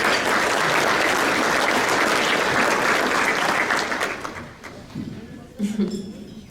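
Applause at an awards luncheon, dense clapping from a large crowd that fades out after about four seconds, followed by a few voices.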